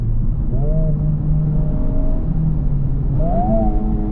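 A 2024 Honda Civic Type R engine accelerates, a loud close rumbling drone with rising revs and a brief shift dip in between, heard from inside the car with no talk.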